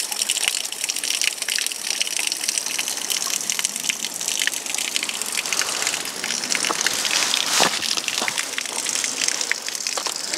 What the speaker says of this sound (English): with all kinds of icicles dripping down underneath